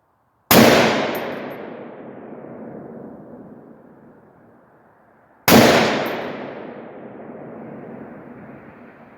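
Two sharp, loud rifle shots from a Palmetto AR firing Freedom Munitions ammunition, several seconds apart, each ringing out into a long echoing tail across an open range with no talking.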